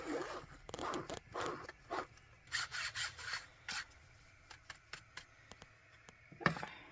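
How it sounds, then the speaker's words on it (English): A hand sifter works flour, baking soda, cinnamon and nutmeg for a zucchini cake, giving close, dry, scratchy rasping strokes in quick uneven bursts, with a few short pauses between passes. "Sift all the dry ingredients."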